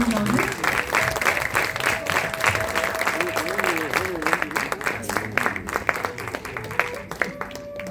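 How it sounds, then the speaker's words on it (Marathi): An audience applauds four senior artists at a Geet Ramayan musical tribute performance, a dense sustained clapping heard alongside a held sung or instrumental tone in the hall. "आमच्या 4 ज्येष्ठ कलाकारांसाठी एकदा टाळ्या होऊन जाऊ दे"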